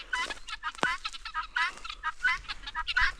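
Guinea fowl roaming outdoors in the wild give a rapid, repeated harsh chattering call, loud and close, in short rhythmic bursts.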